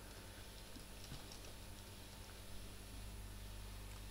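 Computer keyboard arrow keys tapped to nudge a text box into place, small faint clicks scattered over a steady background hiss, no voices.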